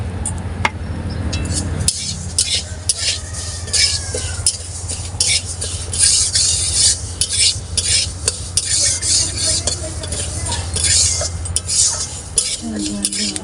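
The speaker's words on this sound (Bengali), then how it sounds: "ডালটা ভাজছি, ভেজে জল দেবো, জল দিয়ে ঢাকা দেবো, সিদ্ধ হবে।" Lentils fry in a little oil while a metal utensil repeatedly scrapes and stirs against the pot. The clatter is loud and close, with an underlying sizzle.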